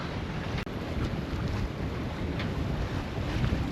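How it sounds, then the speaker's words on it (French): Steady wind roars and buffets the microphone while sailing, with gusty rumbling and water noise underneath throughout. "par moment, il y a des petites rafales"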